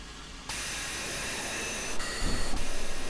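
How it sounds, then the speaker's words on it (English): Air brakes release on a Union Pacific Big Boy steam locomotive in the game Train Simulator 2015, a sudden loud, sustained hiss that starts abruptly and continues with a couple of brief pulses. "Let's release the brakes."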